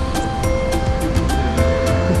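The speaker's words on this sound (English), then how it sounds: "Dangerous river crossing." River water rushes loudly at a dangerous crossing on the Te Araroa trail, a constant close roar with regular sharp splashing bursts repeating through it.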